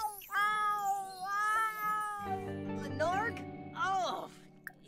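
A cat meows in The Sims 4, with several drawn-out, rising and falling game-character meows sounding near and fairly loud, mixed with music and game-character chatter in the background.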